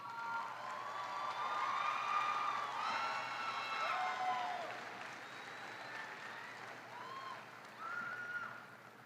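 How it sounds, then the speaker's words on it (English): A college commencement audience applauds steadily, with some cheering and whoops rising over the clapping, gradually tapering off toward the end. "let's give them a round of applause"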